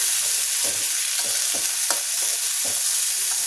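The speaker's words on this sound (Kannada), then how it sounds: "ಇವಾಗ ಕಾಳು ಒಗ್ಗರಣೆ ರೆಡಿ ಆಯಿತು." A chickpea tempering of dried chilli, mustard seeds and curry leaves sizzles loudly in hot oil, a constant bright frying hiss broken by several soft stirring scrapes, with no talking.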